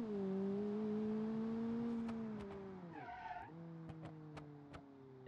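A car in the BeamNG.drive video game runs flat out downhill, its engine droning at a steady high pitch, then its tires squeal in a skid before the engine settles and a few sharp clicks follow.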